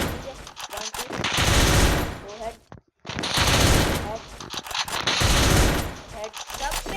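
Rapid MP5 submachine gun bursts in a video game, dense loud volleys in two long stretches split by a brief silent gap, with no talking.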